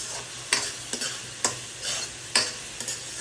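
Dried chillies and turmeric being stirred in a pan for mint rice, with about eight short scraping strokes spaced irregularly over a faint background sizzle, close and fairly quiet.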